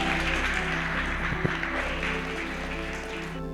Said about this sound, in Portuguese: Alguém pode aplaudir mais uma vez para Jesus Cristo?